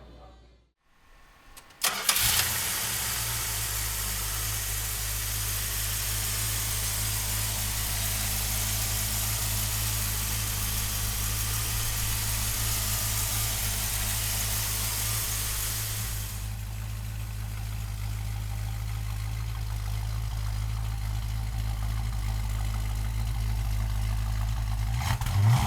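A 1970 Dodge Charger with a 318 V8 cranks briefly and catches, then settles into a steady, loud, rumbling idle heard up close for the rest of the time, the tone shifting slightly partway through, with no voices.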